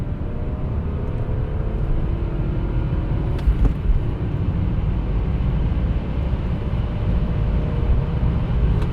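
A repaired BMW car with a newly fitted mass airflow sensor drives in third gear at around 600 RPM, giving a steady, smooth low engine rumble throughout, with a brief faint click near the middle.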